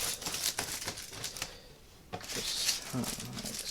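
Tin foil is folded and creased by hand in quick crinkling bursts, with short rustles, taps and brief pauses between them, heard up close.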